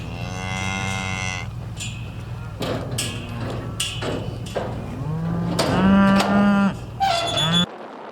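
Several cattle in a corral moo loudly in turn, long drawn-out lowing calls close by, with thumps and knocks between them and a faint voice in the background.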